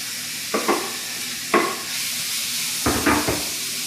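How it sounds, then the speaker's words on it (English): Bacon dropped into a preheated pot for chuckwagon beans gives three bursts of sizzle, near and fairly loud, each crackling up and fading over a steady background hiss. "I've preheated my pot here. I'm going to add the bacon."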